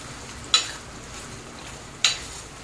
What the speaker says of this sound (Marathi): असं बारीक करून घ्यायचं चमच्याने